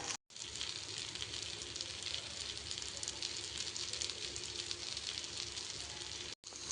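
Chicken tandoori fries in sunflower oil in a pan, giving a steady, soft, hissing sizzle throughout with two brief dropouts.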